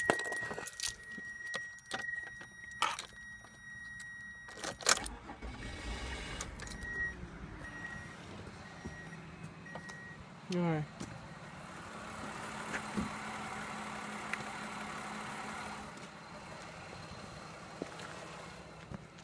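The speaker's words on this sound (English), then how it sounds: "start up the van real quick" Keys jangle near the start, then a van's engine cranks and turns over around the middle and settles into a steady idle that continues to the end.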